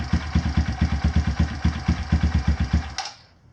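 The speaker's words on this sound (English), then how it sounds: "it's not warmed up yet, so it's struggling staying running right now." Kawasaki KLX170 dirt bike, a KLX140 with a big-bore top end, idling cold during break-in, a close, lumpy single-cylinder putter pulsing steadily for about three seconds before it abruptly cuts out and stalls into near silence.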